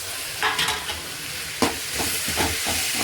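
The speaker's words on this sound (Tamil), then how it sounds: "தக்காளி ஆட் பண்ணியிருக்கோம் விவர்ஸ். கொஞ்சம் நல்லா வதங்கட்டும்." Tomatoes sautéing in a pan with spices give a steady, close frying sizzle, broken by a few scraping stirs of the spoon against the pan; nobody speaks.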